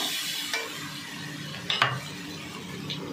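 Mung dal being stirred in hot oil in a pan, a faint steady sizzle with a few sharp scrapes and utensil clinks, no voices.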